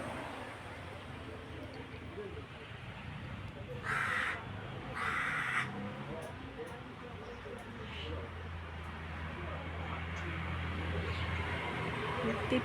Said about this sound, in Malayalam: കാക്കാച്ചി